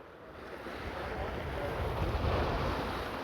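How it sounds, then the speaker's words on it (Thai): Strong wind gusts over choppy reservoir water at Pa Sak Jolasid Dam, a steady loud roar of wind buffeting the microphone with waves lapping beneath, building slightly toward the end. "ลมแรงมากนะ รู้สึกว่าแบบเนี่ย น้ำเป็นคลื่นเลยนะเหมือนอยู่กลางทะเล"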